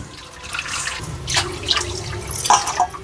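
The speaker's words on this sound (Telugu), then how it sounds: "మంచిగా ఒక 2 గిన్నెల నీళ్ళు వేసుకోండి." Water pours from a container into a cooking pot to make sugar syrup for maida puris, a steady splashing trickle with brief louder surges, close by and alone without talk.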